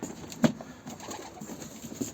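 Soft pigeon cooing with low, murmuring calls over a quiet background, one louder coo standing out near the start.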